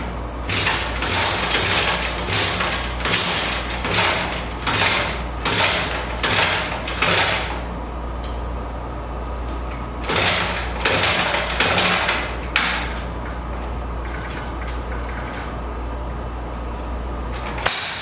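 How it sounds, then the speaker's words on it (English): Repeated attempts to kickstart a Yamaha CS3 motorcycle: a run of sharp mechanical thumps and clanks in bursts, then a pause, then a few more strokes, with no engine catching. "my futile attempts at trying to kickstart the bike"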